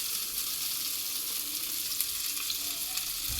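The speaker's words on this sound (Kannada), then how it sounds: "ಸೊ ಇದು ನೀಟಾಗಿ ಫ್ರೈ ಆಗಲಿ" Mackerel pieces frying in oil on a small tawa give a steady, dense sizzle that holds evenly throughout, close and moderately loud, with no voices over it.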